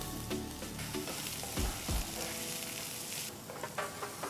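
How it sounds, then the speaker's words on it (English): Chopped garlic and a finely chopped onion fry in a tablespoon of oil in a pan for veg fried rice, a steady loud sizzle broken by a couple of heavy stirring thumps, with no talking. "Take a pan, add 1 tablespoon of oil, 1 teaspoon of chopped garlic. To this add 1 medium-sized onion finely chopped."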